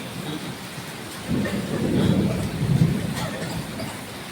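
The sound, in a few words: thunder rumbling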